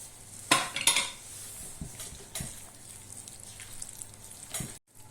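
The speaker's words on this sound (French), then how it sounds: "Et il faut remuer tout ça." A spoon stirs a stuffing mixture with breadcrumbs in a bowl, several soft scraping and clinking strokes at low volume, irregular and close.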